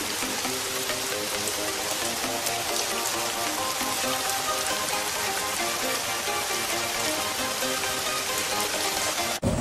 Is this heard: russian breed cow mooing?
no